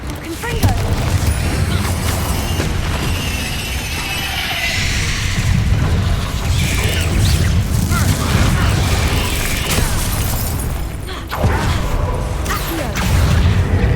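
Confringo fire spells in Hogwarts Legacy burst in a series of booming explosions and crackling impacts over a busy, continuous combat din.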